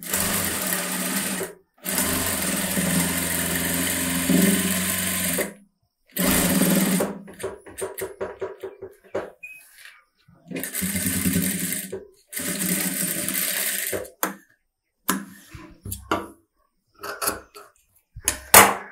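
A sewing machine stitches a close-neck blouse in repeated close, steady runs of humming stitches, each run broken by short silent pauses, with the bursts growing shorter and choppier toward the end.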